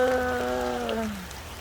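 Rain falling in winter, a steady close hiss throughout, with a wavering, voice-like tone sliding downward over it for the first second or so.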